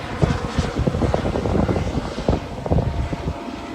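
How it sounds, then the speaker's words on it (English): Steady roar of an airplane flying overhead, loud and continuous with a broad rumbling engine drone that swells slightly midway, no talking over it. "just gonna wait for this airplane over here"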